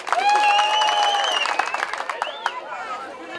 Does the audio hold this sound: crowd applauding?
yes